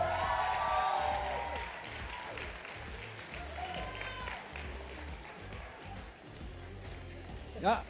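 Steady, fairly distant applause from a large audience fills a hall at a men's pageant grand final, the Mister South Africa 2024 contest, with a voice over the PA and scattered cheering.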